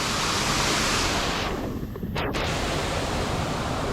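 A waterfall in Munnar, Kerala, viewed from the base, gives off a loud, steady broadband roar of falling water. It dips briefly around the middle and then holds constant.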